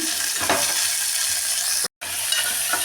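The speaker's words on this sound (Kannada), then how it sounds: "ಸ್ವಲ್ಪ ಬೀನ್ಸು ಕ್ಯಾರೆಟು ಹಾಕಿಬಿಟ್ಟು ಒಂದೇ ಒಂದು ನಿಮಿಷ ತಿರುಗಿಬಿಟ್ಟು" Beans and carrots stir-fried in a hot pan for a methi and palak kichdi give a steady, close sizzle with scraping stirring strokes throughout, no voices.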